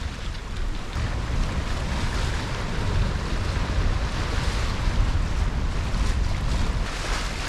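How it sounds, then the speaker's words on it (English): A sailboat running downwind on the open sea, with waves washing steadily against the hull and constant roaring wind buffeting the microphone, no voices. "the waves are usually only like 4 or 5 seconds apart"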